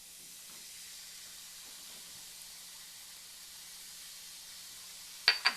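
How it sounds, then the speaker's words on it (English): Baking soda fizzes in vinegar in a kitchen, a steady soft hiss with a couple of sharp knocks at the end. "our next step is to mix our baking soda in with our vinegar, and it's going to fizz"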